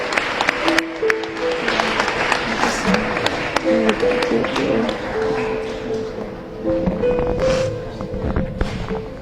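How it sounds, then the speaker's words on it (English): Audience clapping at a community gathering in Minneapolis, a dense, uneven patter of hands lasting throughout, mixed with crowd murmur and scattered taps, with tonal voices or music threaded under the applause. "Another round of applause, please."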